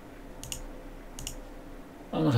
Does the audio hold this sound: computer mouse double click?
yes